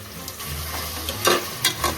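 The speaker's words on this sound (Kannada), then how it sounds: "ಇವಾಗ ನಂದಿನಿ ತುಪ್ಪನ ಯೂಸ್ ಮಾಡಿ ಇದ್ರ ಜೊತೆ ಸ್ವಲ್ಪ ಫ್ರೈ ಮಾಡಿ ಮಿಕ್ಸ್ ಮಾಡ್ಕೊಳ್ಳಿ ಕ್ಲೀನಾಗಿ" Ghee frying and being stirred in a room-cooked chicken biryani pan, a steady close sizzle with a few louder scraping stirs near the end, no voices.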